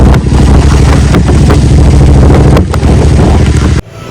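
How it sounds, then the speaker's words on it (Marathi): Strong wind blowing on a rainy day, a loud continuous roaring rush that buffets hard against the microphone, steady throughout and cutting off abruptly near the end. "आज वारा बिरा जाम आहे"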